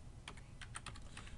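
Quiet, quick clusters of keypresses on a computer keyboard while a formula is typed into an Excel spreadsheet, several soft clicks in uneven bursts close to the microphone.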